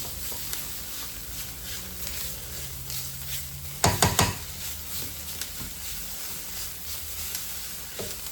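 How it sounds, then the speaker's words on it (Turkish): Tomato paste sizzles softly in a pan as it is sautéed, a faint steady frying hiss with a brief cluster of louder spatula scrapes midway. "Şimdi bakın böyle e, kavurayacağım. Şöyle kavuruyorum."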